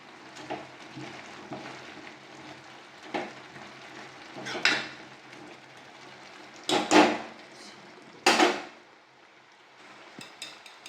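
Garam masala and ghee hit a pan of cooked banana flower, giving a soft, continuous frying hiss broken by several sharp spoon knocks and scrapes against the pan.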